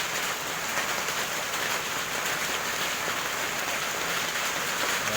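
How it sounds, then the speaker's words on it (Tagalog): Steady, dense hiss of rain falling continuously on surfaces, even and unbroken, with no voices. "Halos magdamag ang ulan, walang tigil."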